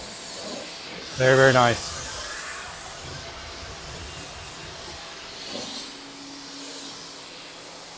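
A garden hose rinses suds off a soapy car washed with Turtle Wax Pure Wash, with a short, loud burst of spray near the start and a steady softer wash of water after it, while a person speaks briefly.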